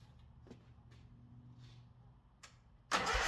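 A Wright commercial mower engine cranks and fires after a cylinder head replacement; quiet low rumble and clicks give way to a sudden loud burst as it catches near the end.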